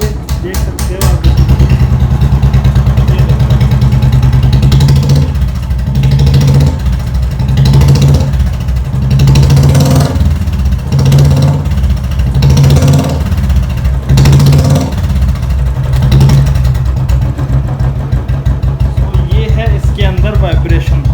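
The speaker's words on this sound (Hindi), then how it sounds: "बाइक को कर लेते हैं स्टार्ट। स्टार्ट हो चुकी है बाइक" A Royal Enfield Bullet motorcycle engine idles steadily with a deep, thumping rhythmic pulse, loud and close, continuing throughout.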